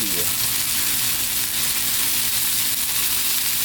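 Steak bites searing in olive oil in a hot pan, a loud continuous sizzle with steady crackling that never lets up, close and alone without talk.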